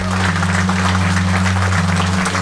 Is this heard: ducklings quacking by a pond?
no